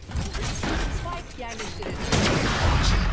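Gunfire in the tactical shooter game Valorant, with several sharp shots and bursts over game sounds, while players talk throughout.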